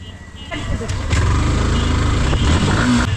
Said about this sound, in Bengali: চলো গাই বাইক স্টার্ট হয়ে গেছে